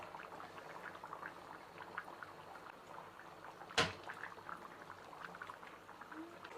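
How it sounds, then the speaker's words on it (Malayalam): Low, steady bubbling of a fish curry simmering in a pot, with a single sharp knock partway through and no voices. "അപ്പോൾ നമ്മുടെ മീൻകറിയൊക്കെ നല്ലതായിട്ട് തിളച്ച് വന്നിട്ടുണ്ട്"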